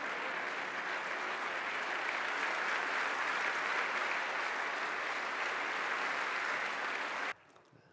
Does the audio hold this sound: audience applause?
yes